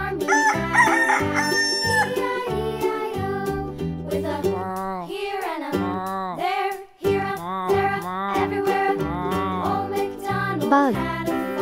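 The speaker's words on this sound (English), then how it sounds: "chicken." Toy animal sounds of a chicken clucking and a rooster crowing, played loudly and continuously over a bright, jingly electronic melody, with repeated crowing calls rising and falling.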